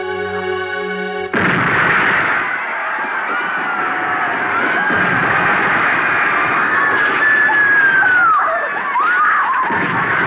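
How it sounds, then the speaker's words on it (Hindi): Bomb blasts in a period family drama roll into a dense, sustained rumbling din, with a tonal musical swell at the start and whistling, screeching layers over continuous booming. "ये बमों के धमाके"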